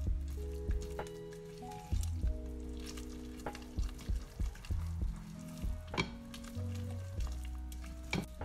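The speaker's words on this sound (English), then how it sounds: "So make sure it is thoroughly mixed." Thick vegan, gluten-free carrot cake batter being stirred and mixed in a bowl, giving repeated wet squishing and scraping strokes over a steady low hum, close and fairly quiet.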